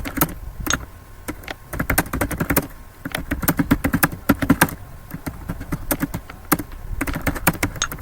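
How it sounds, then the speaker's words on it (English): Fast typing on a laptop keyboard: rapid, continuous clusters of close, crisp key clicks with short pauses between bursts. "So I'm now typing using my hands."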